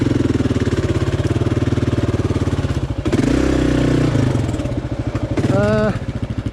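A motorcycle engine idles and revs nearby, a steady throbbing rumble with a couple of rising throttle blips near the end, and a voice speaks briefly over it.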